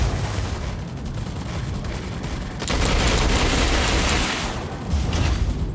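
Gunfire and explosions in the Mech Arena video game, a dense, continuous roar of rapid shots and booming blasts, loud and close, swelling louder midway and staying heavy throughout.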